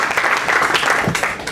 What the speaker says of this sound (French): Est-ce qu'on peut applaudir plus fort?